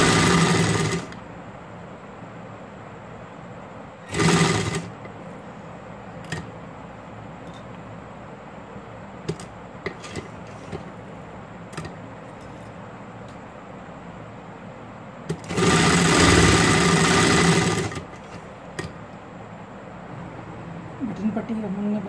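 A sewing machine stitches the shoulder seams of a baby frock in two loud, close bursts of rapid whirring, one short and one longer. A quiet room and occasional small handling noises fill the gaps.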